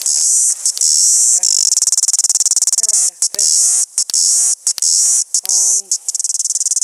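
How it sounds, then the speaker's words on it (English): A loud, close cicada drones in a high shrill buzz, cutting out briefly several times before resuming; a few faint voices murmur underneath. "I can hear a cicada."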